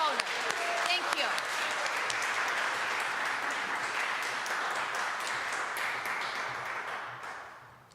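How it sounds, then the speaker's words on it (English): An audience at a university donation announcement applauds for donors, a dense, even clapping with a brief voice near the start, gradually thinning and fading out toward the end. "let's give another round of applause for our generous donors"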